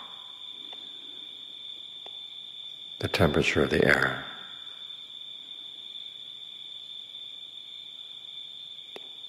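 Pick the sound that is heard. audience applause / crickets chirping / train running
crickets chirping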